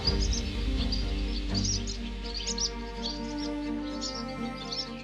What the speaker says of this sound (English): Barn swallows!